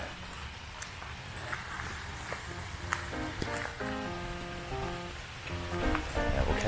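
Rain falls steadily outdoors as someone walks back to the car, a soft continuous patter mixed with footsteps and faint background tones.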